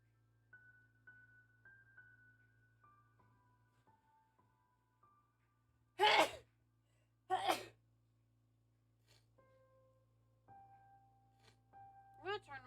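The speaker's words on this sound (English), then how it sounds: "I don't sneeze that often." Two sharp sneezes burst out close to the microphone a second apart, loud against a quiet room with a faint steady hum and soft synth tones from a Slime Rancher 2 game session.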